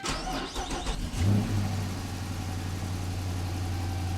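An AWD Hemi Dodge Charger engine cranks briefly, then catches and settles into a loud, steady low rumbling idle close by.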